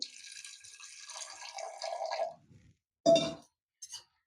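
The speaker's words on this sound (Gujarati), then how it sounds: "અને એમાં આપણે થોડુંક પાણી નાખશું" Water poured into sprouted pulses in a pressure cooker before boiling, a steady splashing stream for about two seconds, then a short clatter and a brief faint splash, close and quiet with no talk.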